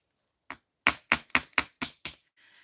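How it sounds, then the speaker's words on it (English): A nylon jaw hammer strikes wire loops in a jewelry-making session: one light tap, then six sharp, evenly spaced blows in quick succession, close and distinct against a quiet background. "we're just gonna get our nylon jaw hammer and work hard on our loops here."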